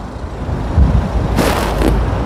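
Continuous rumble of busy street traffic behind an officetel, cars streaming past close by, with a louder vehicle sweeping through near the end and some wind buffeting the microphone.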